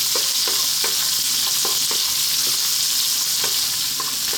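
One sliced red onion frying in a pan over lively heat, a loud unbroken sizzle with regular soft knocks and scrapes of stirring throughout.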